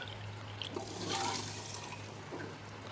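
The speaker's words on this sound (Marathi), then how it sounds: "ह्यामध्ये आपल्याला आता पाणी घालायचे." A brief gush of water splashing into a pressure cooker holding rice, steady and close, with a low constant hum underneath.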